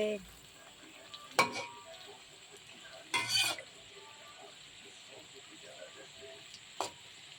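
Palm fritters (tal bora) frying in a wok. A soft, steady sizzle sits under three brief, louder bursts of stirring and scraping, with a quiet murmur in the background.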